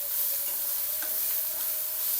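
Onion, green chilli paste, salt and turmeric sauté in hot oil in a pan, giving a steady, close sizzle with soft stirring scrapes throughout.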